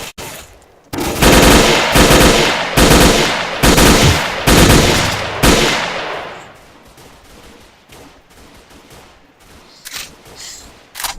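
Loud, unsuppressed automatic gunfire in the STALKER mod Oblivion Lost, six or seven heavy bursts in quick succession, then quieter scattered shots and distant pops trailing off, with no talking.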